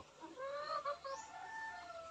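A chicken gives a short run of clucks and squawks close by, with a faint steady background hiss.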